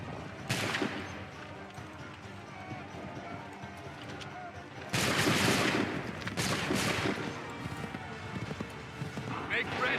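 Musket volleys crack out in Assassin's Creed III at a Lexington and Concord battle, one sharp shot early, then a heavier burst of overlapping fire midway, with horse hooves and shouted commands mixed in.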